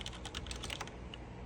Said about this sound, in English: This keyboard feels like an absolute dream to type on.